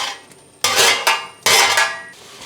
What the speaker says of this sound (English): I'll start by adding a little olive oil in a saucepan, followed by my vegetables.